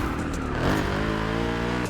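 Ford Mustang Darkhorse in The Crew Motorfest revving hard, a loud, rich engine note that rises and holds steady over two seconds.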